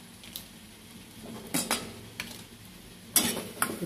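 A utensil scrapes and clinks against a pan in a few short bursts of stirring over a faint, steady sizzle, while making pumpkin cream soup.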